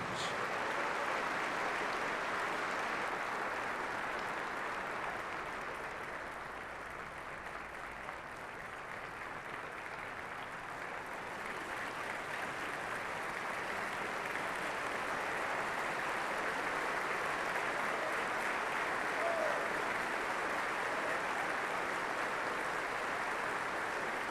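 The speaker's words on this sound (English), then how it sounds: "let's have a big round of applause for all of our outstanding non-commissioned officers" An audience at a military association luncheon honoring non-commissioned officers gives sustained applause, a dense, even wash of clapping lasting over twenty seconds with no talk over it.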